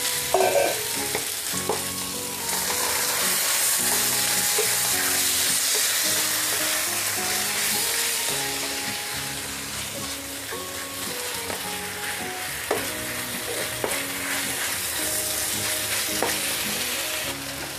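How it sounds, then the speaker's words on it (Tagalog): Quarter kilo of marinated beef stir-frying in a hot pan, a loud continuous sizzle with bursts of crackling and clinks of a spatula stirring, close and steady with no talking. "Ilagay na natin yung ating 1/4 kilo na marinated"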